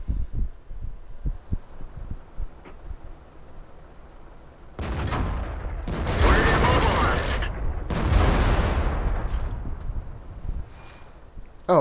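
Tank cannon fire in World of Tanks: two heavy booming blasts several seconds apart, each trailing a low rumble. Quieter thuds and a player's voice can be heard between the shots.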